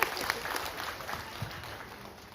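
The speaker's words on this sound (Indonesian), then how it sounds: "tepuk tangan dulu" Audience at a motivational success seminar giving brief applause as someone comes forward, fairly soft clapping from a room of people fading gradually.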